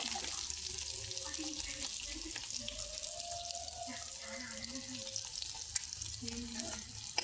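Green chillies and onions frying in oil make a soft, continuous hiss and crackle, with a faint voice-like murmur underneath.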